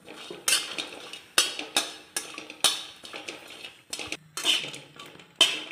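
Grated coconut is stirred while dry-roasting in a pan: repeated scraping strokes of a spoon across the metal surface, with short pauses between the quiet, close-up scrapes.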